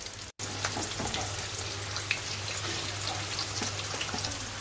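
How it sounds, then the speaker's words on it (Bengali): Pangas fish frying in a pan gives off a steady, even sizzle with faint crackles and pops, heard close and alone without any talking. "তো মাছ ভাজা হয়ে গেছে, মাছ ভুনা করবে এখন।"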